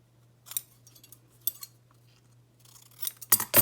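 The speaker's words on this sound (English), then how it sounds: "So I'm just going to cut it like this." Scissors snip through paper while a small piece is trimmed for a handmade Easter card, a few crisp, close cuts spaced apart and then a quicker flurry of snips at the end, against a quiet low hum.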